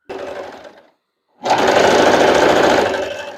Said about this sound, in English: I'm going to sew along this open edge with a 1/2 inch seam allowance using a straight stitch